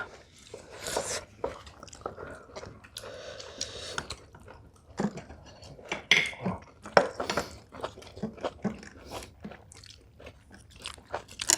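Crunching and chewing while eating braised pork kimchi at a home table, a series of close crisp bites and mouth sounds with occasional clinks of dishes and cutlery between them.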